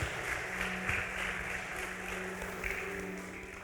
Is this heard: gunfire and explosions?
no